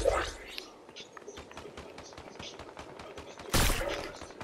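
Gunshots in Fortnite, a sniper rifle among them, crack out repeatedly over about four seconds, with a louder, denser burst near the end. Players talk quietly over the firing.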